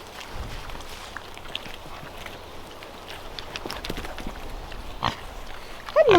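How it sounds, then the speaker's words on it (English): A pregnant sow in a farm pen gives low, soft grunts under rustling and footsteps, with a louder snort near the end. "Here's our little pregnant sow."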